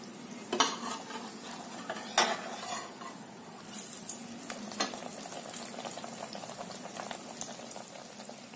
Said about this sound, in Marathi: खालची बाजू पण छानसं तळून घ्यायचं, दोन्ही बाजू छानसं तळून घ्यायचं.